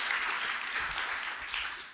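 Conference audience at the Nordic Game Conference claps in a soft, steady wash of applause from a large hall that fades slightly toward the end.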